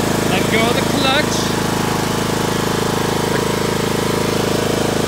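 A John Deere riding lawn mower engine runs at a steady, loud idle-like drone throughout, with voices speaking briefly over it near the start.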